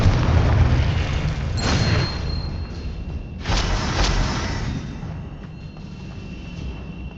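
The Confringo blasting spell in Hogwarts Legacy lands as two heavy booming explosions over a rumbling game background, the second blast louder before the noise tails off.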